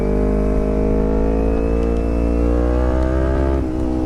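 A 2011 Kawasaki Ninja 250 motorcycle runs steadily close by, its engine holding a smooth, even drone that rises very slightly in pitch, with a brief dip near the end and no talk over it.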